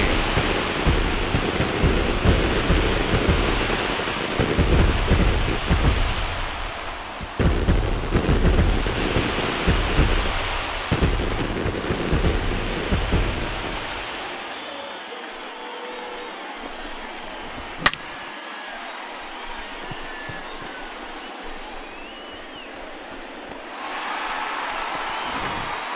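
A baseball stadium crowd of over 39,000 cheers on its feet after a go-ahead solo home run: a loud, continuous roar fades to a quieter murmur midway, then rises again near the end.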